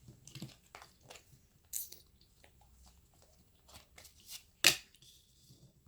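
Tarot cards for a pick-a-card reading are shuffled and handled up close, giving soft irregular rustles and flicks with a few sharper snaps, fairly quiet and with no talk.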